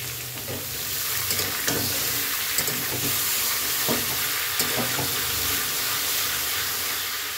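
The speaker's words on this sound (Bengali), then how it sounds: "এবার ইলিশ মাছগুলো দিয়ে দিচ্ছি। ইলিশ মাছগুলো ভাজবো না, কাঁচা দিলাম।" Raw hilsa fish sizzling in a pan with eggplant, a steady loud frying hiss throughout, broken by small pops and the occasional clack of stirring, with no voices.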